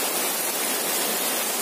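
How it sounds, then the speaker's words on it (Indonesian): Dense, steady hiss of heavy rain pouring down, constant and unbroken with no voices. "Lagi hujan lebat soalnya."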